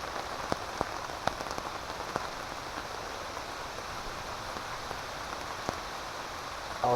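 Heavy rain falls steadily on a solo camping site during a rainstorm, a dense, even hiss with occasional sharper drops tapping nearby, and no voices.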